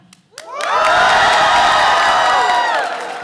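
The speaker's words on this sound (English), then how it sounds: "Let's go ahead and cheer it now." Loud crowd cheering and whooping at a school evening event with a choir and orchestra, rising quickly and holding steady for about two seconds before tapering off.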